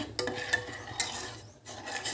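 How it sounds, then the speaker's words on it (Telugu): A utensil scrapes and taps against a pot in short strokes, stirring boiling tea decoction at close range with soft clinks. "దీన్నిలాగా మనం కలుపుతూ ఉండాలన్నమాట అప్పుడు డికాషన్ అనేది చక్కగా మరుగుతుంది"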